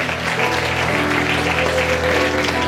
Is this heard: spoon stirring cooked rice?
no